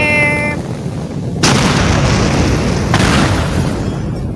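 A room blown apart in the Teardown game, with a heavy boom that cuts in abruptly and then rumbles on, and a second sharp blast hitting a moment later. The explosions are loud and there is no speech.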